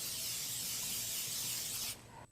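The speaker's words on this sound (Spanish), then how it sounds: "Y le vamos a echar un poquito de grasa en aerosol previamente." Aerosol cooking spray hissing steadily onto baking pans for a coconut cake, a continuous close spray lasting about two seconds before stopping, with no talking.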